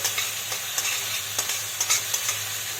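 Dried chili, whole cumin and tomato paste fry in hot oil for a Bengali broccoli dish, a bright, crackling sizzle with spatula scrapes every few tenths of a second, close and moderately loud, without speech.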